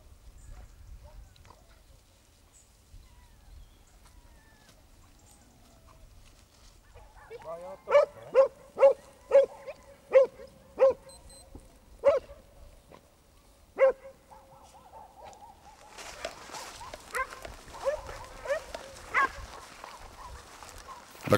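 A pack of scent hounds hunting hare on a wooded hillside gives a string of sharp, separate barks and bays that spread out into irregular, overlapping cries, moderately close, with no talk.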